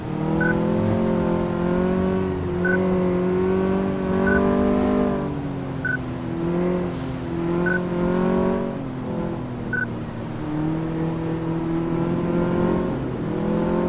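A car in Car Mechanic Simulator 2014 driving through a shock absorber test, its engine humming and rising and falling in pitch in steady repeated cycles, loud and continuous throughout with no talk.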